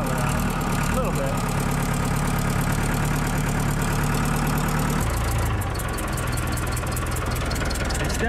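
The diesel engine of a 1992 Pettibone 636 telehandler idles roughly close by, a steady low rumble with knocking irregularities throughout, changing tone slightly partway through; it has a fuel problem and a cracked exhaust manifold.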